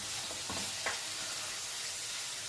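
Chicken sizzles and fries in a pan with turmeric and garam masala, a steady crackling hiss with a few soft stirring scrapes near the start, close and continuous with no talking.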